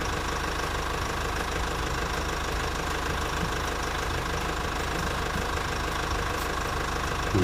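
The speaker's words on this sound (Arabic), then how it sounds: "يلا دوري يا عربية." A car engine runs at a steady, rough idle with a constant knocking rumble and vibration that stays close and even throughout.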